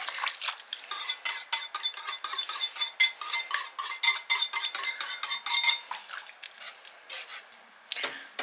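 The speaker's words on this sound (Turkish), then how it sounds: "Şimdi bunu da yavaş yavaş çorbaya karıştırıyorum arkadaşlar." A plastic utensil scrapes and clinks rhythmically against a metal soup pot, steady repeated stirring strokes up close, then a few slower scrapes near the end.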